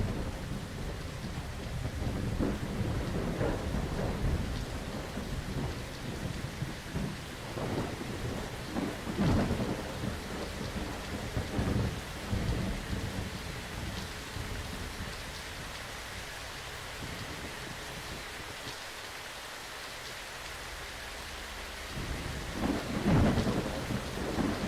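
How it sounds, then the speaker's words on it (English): A heavy thunderstorm in the Fallout London game, with steady rain pouring down and rolls of thunder booming over it again and again, all with no talking. "It's quite a thunderstorm."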